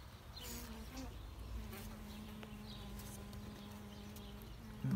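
Native-breed honeybees buzz around an open hive, a steady low drone with individual bees flying close past, faint overall, with outdoor rustling and a brief bump at the end.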